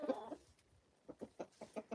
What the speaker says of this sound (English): They sing that song when they're about to lay an egg.